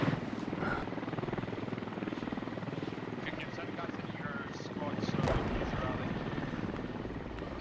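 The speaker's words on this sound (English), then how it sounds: "Trying to take out the rotor to crash the heli" Helicopter rotor thumping in the video game Squad during a competitive match, a steady, fast chop that holds throughout, loud and close, while commentators talk over it.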